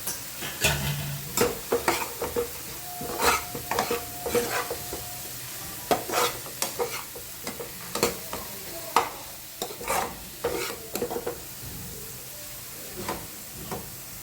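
Onions sizzle in a pan with a little turmeric while a spoon stirs and scrapes in repeated sharp bursts, close and fairly loud over a steady frying hiss.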